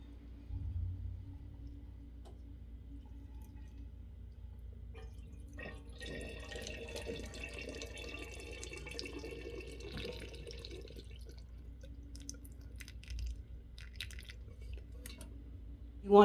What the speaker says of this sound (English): we're going to water this in real deep. We'll grab this watering can.